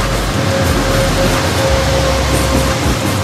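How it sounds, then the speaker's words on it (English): A passenger train arriving at a station in Kerala, India, heard as a loud, steady low rumble and rolling roar with a faint sustained whine, close by and continuous, with no voices. "And the train arrived."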